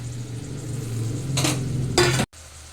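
Green beans cooked with rock salt are stirred in a pan, giving a soft sizzle under scraping, with two sharp metallic utensil strokes against the pan before a sudden cut-off.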